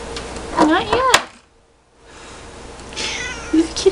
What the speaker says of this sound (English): Leave Kitty alone.